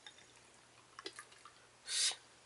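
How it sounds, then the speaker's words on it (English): Water poured into the base of a hookah, a short bright splashing burst near the end after a few faint drips and clinks, close and fairly quiet with no talk. "I'm just going to add a little bit more water in here."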